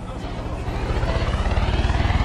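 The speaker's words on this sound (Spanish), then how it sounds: "el de la avioneta está a tope" Small propeller plane flying overhead in the Far Cry 5 video game, a loud, pulsing engine drone that swells and throbs steadily, close and dominant.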